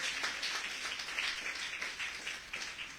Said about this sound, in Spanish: O si quieres aplaudirle, apláudele a Dios